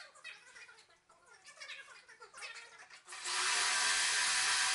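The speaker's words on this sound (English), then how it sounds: "adjust the collar so that you can cut or route the next 1/2 inch of depth" A router cuts into wood through a hinge template, a loud steady high-pitched whine that starts abruptly partway through and runs to the end after a few seconds of quieter handling noise.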